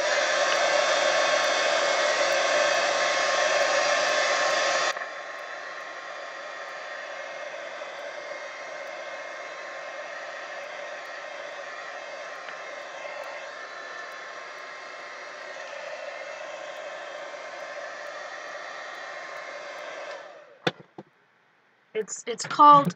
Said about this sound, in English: Just going to heat this a little bit on the back. Heat gun.